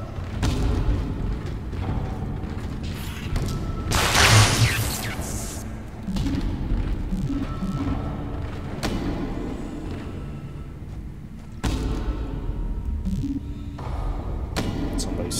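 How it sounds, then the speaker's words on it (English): In the horror video game Dead Space, dull heavy thumps sound over a dark, rumbling ambience, with one strong boom near the middle and more impacts later. "Okay, I hear some thumping."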